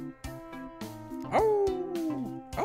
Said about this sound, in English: Oh, that's a cat. I thought it was a wolf.